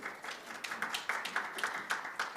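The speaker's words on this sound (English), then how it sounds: "Once again, please give a big round of applause to the panelists." A small seminar audience applauds the panelists, quiet, even rhythmic clapping from a modest group, somewhat distant, with no talking.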